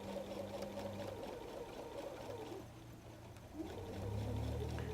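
A sewing machine stitches in the ditch on a messenger bag, a steady close whirring run that slows briefly and then picks up again as it moves over bulkier layers.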